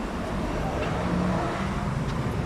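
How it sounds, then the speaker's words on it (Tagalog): Dense road traffic heard around three in the afternoon, a steady close wash of car engines and rolling tyres with no break, loud and continuous throughout. "Mga alas 3 na, pero traffic pa rin no."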